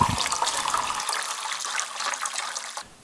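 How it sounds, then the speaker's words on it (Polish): Fresh water pours into the water tank of a De'Longhi Magnifica S coffee machine, a steady splashing stream close by that tapers off at the end. "Nalewamy świeżej wody do pojemnika na wodę, tym razem do drugiej kreski."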